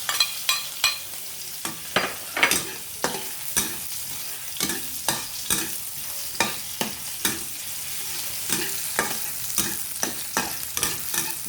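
Onions and garlic fry in a hot pan for a chicken curry, a steady close sizzle broken by repeated sharp scraping clacks of a spatula stirring at a quick, uneven rhythm.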